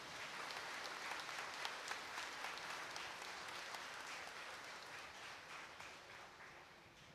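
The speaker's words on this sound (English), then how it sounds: "praise God by clapping your hands now" Congregation clapping hands at an English Mass in the Vailankanni Shrine Basilica, a faint, distant wash of sustained applause that slowly tapers off.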